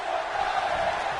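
A wrestling arena crowd in WWE 2K18 chants and roars as a steady, dense mass of voices in the background, brief and continuous.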